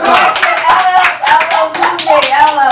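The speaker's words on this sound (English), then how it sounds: "Give me a applause." Audience clapping at a live event with the Jamaican dancehall acts Wayne & Turbulence, a loud, dense patter of hand claps running throughout over a background of crowd voices.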